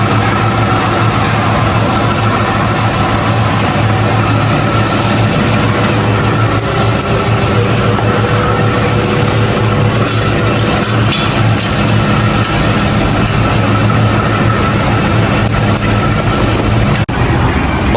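A wheel balancing machine with weights runs in a tyre alignment shop, giving a loud, continuous mechanical hum and drone that holds steady throughout the shop noise, ending with a brief change at the close.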